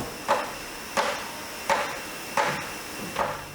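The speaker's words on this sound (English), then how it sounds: "The workers then attach the lids onto the barrel to ensure they fit perfectly." Workers fit lids onto handmade wine barrels by hand, and five solid wooden knocks land at an even pace about two-thirds of a second apart, each ringing briefly in a quiet workshop.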